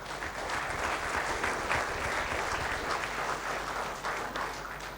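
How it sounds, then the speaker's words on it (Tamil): An audience at a conference bursts into sustained applause, many hands clapping together in a dense, even roar that holds steady for several seconds and then eases slightly. "நீங்கள் எல்லோரும் உங்களுக்கு நீங்களே ஒரு முறை கைத்தட்டல் கடுத்துக் கொள்ளலாம்"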